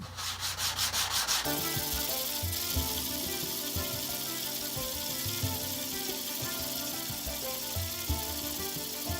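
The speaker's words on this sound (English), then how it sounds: "I'm going to switch over and try the 200 grit diamond plate." Rough sandstone rubbed back and forth on a 200 grit diamond plate, a continuous loud gritty scraping with fast rhythmic strokes, close up and without talk.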